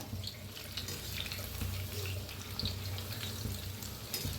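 Corn pakoras frying in hot oil, a steady bubbling sizzle with crackling spits, moderately quiet and close, with no talking.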